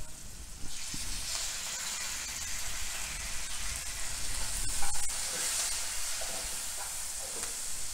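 Chopped onions with red chilli and curry leaves sizzle steadily in a hot pan during sautéing, a loud, continuous hissing fry with a faint scrape of stirring partway through and no talking.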